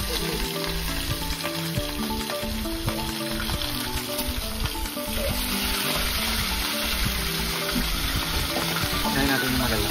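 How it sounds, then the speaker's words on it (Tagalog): Steady, loud crackling sizzle of food frying in hot oil, continuous throughout with a dense, hissing texture. "Pag-prito po tayo."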